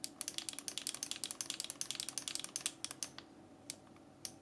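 Rapid, crisp clicking of the 8-way joystick on a Neo Geo X handheld console, a fast dense run of close clicks that slows to a few scattered clicks at the end.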